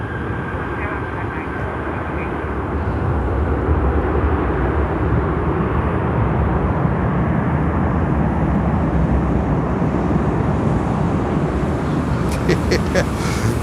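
An ATR turboprop passing at Miami airport, its broad engine roar swelling after a few seconds and holding loud and near, with a voice talking over it.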